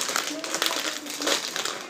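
Plastic bag crinkling as a Littlest Pet Shop toy is unwrapped, a steady close rustle running throughout the short moment, with a voice talking over it.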